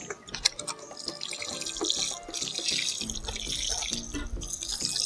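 Water pours onto potted herb seedlings of thyme, rosemary and peppermint, splashing and trickling into the soil with irregular drips and a steadier flow that grows fuller over several seconds.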